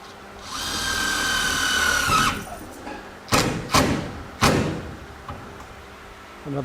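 Power drill driving self-tapping screws into metal girders while hanging LED shop lights: a sustained high whine for about two seconds, then several short, loud bursts and thumps of the drill close by.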